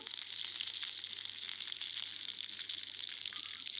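Drumstick leaves, garlic, dried red chillies and curry leaves deep-frying in hot oil give a steady, close, dense sizzle that crackles evenly throughout with no voices.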